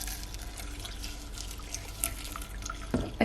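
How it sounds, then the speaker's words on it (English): Milk poured from a carton onto oats in a home kitchen, a soft steady trickling splash close by, ending with a couple of louder knocks as the container is set down; no speech. "Now I'm going to pour in the milk,"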